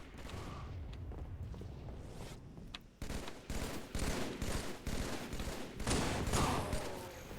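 Gunfire from Halo: The Master Chief Collection during online play, with bursts of rapid shots that grow louder and denser after the first few seconds and continue through the rest of the stretch.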